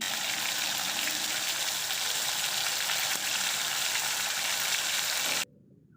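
Spice paste frying in hot oil with a bay leaf for vegetarian potol kudli posto, a dense, even sizzle close by and alone that cuts off abruptly near the end.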